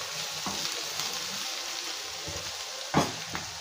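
Chopped onions with ginger and garlic sauté in a pan, giving a soft, steady sizzle with a few louder stirring scrapes near the end. No one speaks.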